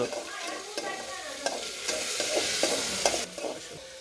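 Urad dal tempering in hot oil for a Noakhali-style recipe, a continuous crackling sizzle with spoon stirs and scrapes knocking against the pot at irregular intervals.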